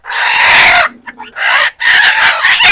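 A backyard egg-laying hen lets out loud, close, harsh squawking clucks in two long bursts separated by a short pause with softer low clucking, sharp and raucous throughout.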